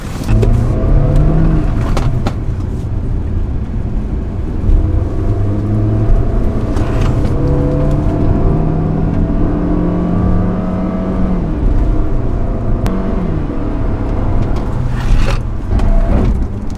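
A SsangYong Tivoli's engine revs hard in sport mode with ESP off and climbs through the gears, its tone repeatedly rising and dropping as it accelerates, loud and close inside the cabin.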